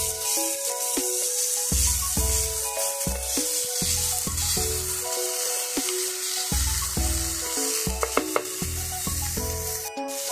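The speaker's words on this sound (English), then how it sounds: "you want to add in your minced garlic, saute that for 1 minute." Minced garlic sizzles in a hot pan while being stirred for lasagna, a continuous close crackle broken by repeated scraping strokes of a utensil.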